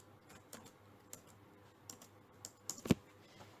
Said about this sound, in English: So I'm going to type the name as Spring Hibernate